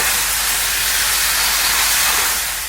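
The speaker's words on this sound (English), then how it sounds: "continue to cook until the edges of the meat are mostly brown" Steak pieces for adobo peppered steak sear in a hot pan with a loud, steady, close hiss and sizzle that continues without a break, easing slightly at the end.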